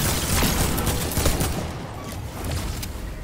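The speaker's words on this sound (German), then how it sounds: "Wer hat geschossen?" A rapid, dense volley of gunfire in Fortnite, loud and continuous at first, then thinning into scattered shots.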